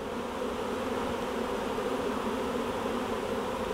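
A swarm of honeybees fanning their wings as they move into a box, a dense, steady buzzing hum that stays loud and close throughout with no voices.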